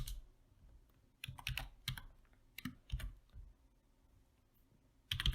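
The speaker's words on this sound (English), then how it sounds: "We do this by typing library" Quiet keystrokes on a computer keyboard come in short, irregular bursts as code is typed in RStudio, separated by brief pauses, with a final flurry of keys at the end.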